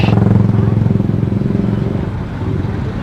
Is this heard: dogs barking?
no